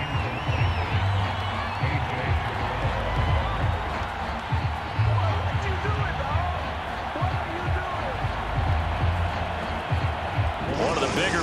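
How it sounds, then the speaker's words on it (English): A stadium crowd cheers during an American football video game between the Bengals and the Chargers, a broad roar building ahead of a big third down, with thumping bursts and a commentator talking over it. "The crowd getting into it as we come up on a big third down."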